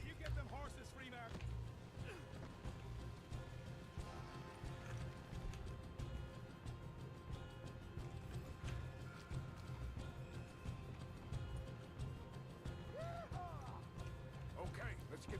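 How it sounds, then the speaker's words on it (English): Horse hooves clip-clop steadily through a video game scene, the rhythmic clatter running on under continuous background game sounds and music, with talking over it. "Looky here, you get them horses free, Mark."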